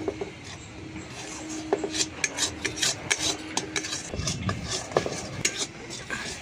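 Grated carrot mixed with powdered milk stirred and fried dry in a pan, with a steady low sizzle and repeated scraping clinks of a utensil against the pan, close and moderately loud.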